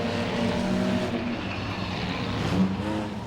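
Race cars in an enduro at Langley Speedway roaring along the back straightaway three wide, engines droning loud and steady with rising and falling passes.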